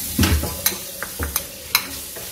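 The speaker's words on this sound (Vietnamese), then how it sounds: "Bây giờ mình đảo đều lên và ướp thêm hành tím là được." Minced meat marinated with shallots being stirred in a bowl, a few soft wet squelches and light scraping taps spaced irregularly, close and quiet with no voices.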